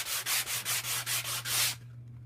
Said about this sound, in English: So it's going to make a nice little sanding block here.